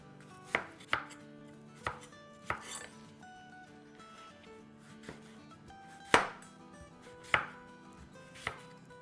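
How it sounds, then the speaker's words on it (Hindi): Knife chopping an apple into medium pieces on a board, a series of sharp, irregular thunks spaced a second or so apart, close and fairly quiet with no talking. "तो बस ये इसी तरह पूरा एप्पल काट लेंगे"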